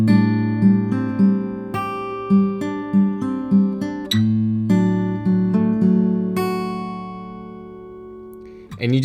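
A Frozen 2 song intro played fingerpicked on acoustic guitar, each plucked note ringing clearly in a slow, gentle arpeggiated pattern, repeated through and fading out on a held final note, with no voices.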